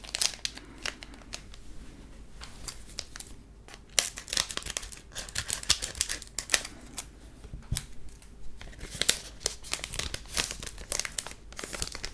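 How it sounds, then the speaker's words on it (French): Foil wrapper of a Pokémon card booster pack being torn and crinkled open, a busy stream of close, crisp crackles and rips lasting several seconds, with no talking. "on va de ce pas ouvrir le prochain booster"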